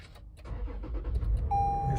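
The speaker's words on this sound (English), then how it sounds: "Also, I can try to start the car." A Toyota Land Cruiser (2018-2020) with a newly programmed smart key starts up: a short crank, then the engine catches and settles into a steady low idle, heard close.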